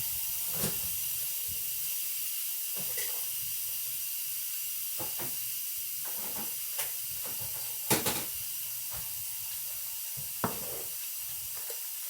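An Instant Pot cooking chicken and rice with garlic vents steam in a continuous soft hiss, punctuated by scattered sharp clicks and sputters, close and steady with no talking.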